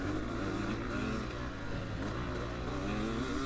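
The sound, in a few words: 250cc four-stroke dirt bike engine revving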